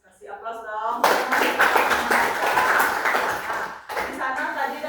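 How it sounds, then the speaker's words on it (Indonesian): A classroom of pupils breaks into applause, a dense burst of many clapping hands lasting about three seconds, with a voice speaking just before and after. "Kasih aplaus dong"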